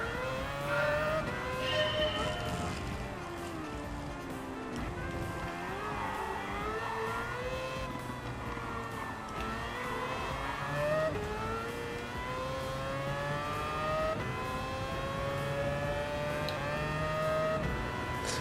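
Race car engine in the Gran Turismo 7 video game, revving hard through the gears with rising and falling pitch, loud and continuous for the whole stretch, no talking.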